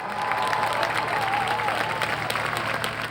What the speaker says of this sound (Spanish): Vamos a dar unha ovación para recibila para este segundo tema.